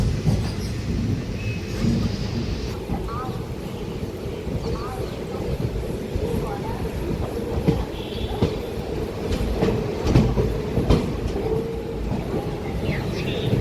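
A passenger train pulls into Guntur railway station, its wheels rumbling and clattering steadily over the rails, with occasional squeals and station noise around it.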